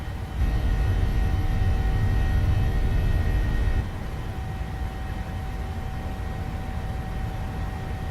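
Boeing 737-800 jet engines roaring during the takeoff roll in a flight simulator game, a loud steady rumble with a whine that drops slightly in level partway through.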